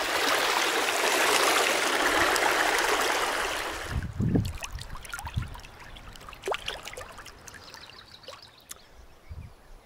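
A flowing stream of water rushes loudly and steadily for about four seconds, then drops to quieter trickles, splashes and drips.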